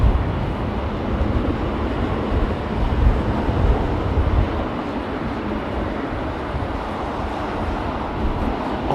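Triple-spool airliner jet engines roar steadily as a plane arrives at Heathrow in wet, windy weather, a loud continuous rumble mixed with wind buffeting the microphone.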